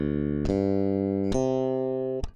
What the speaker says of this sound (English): What you're about to hear is pure DI, just the pickups. The preamp is bypassed